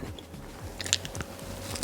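Someone bites into a soft cookie with crunchy edges, giving a crisp snap followed by a few close, moist chewing crunches.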